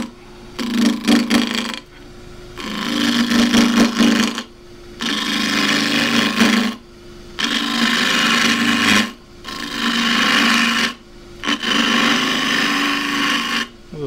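A wood lathe spins a 3-inch square box elder bowl blank while a half-inch spindle gouge with a 3/8 flute cuts it. About six steady, raspy cutting passes repeat with short pauses between them, close and loud.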